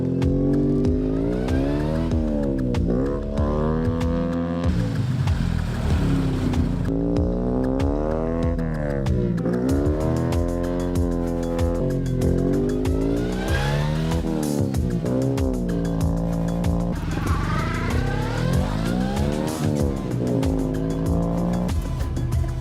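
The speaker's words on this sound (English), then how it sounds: "to do a bit of drifting. In a front-wheel drive car." A front-wheel drive car being drifted, its engine droning steadily throughout with rising and falling revs, joined by sustained tire squeal as it slides; loud and close with no talking.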